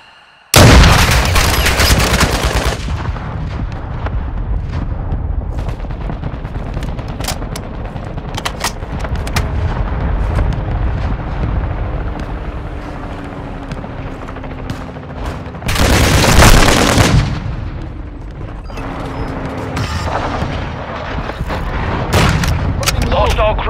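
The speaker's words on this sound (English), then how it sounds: "Friendly mortar strike inbound." A friendly mortar strike pounds the battlefield in Call of Duty: Modern Warfare 2, with loud booming blasts near the start and again midway over constant rolling gunfire and battle noise.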